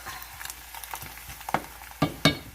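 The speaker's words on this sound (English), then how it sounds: "now it's reducing down and frying up" Maple brown sugar bacon sizzling and crackling in a pan, a soft frying hiss with a few sharper pops near the end.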